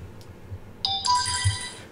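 A phone ringtone goes off for about a second, bright electronic chimes stepping up in pitch over a low background hum, with no voices.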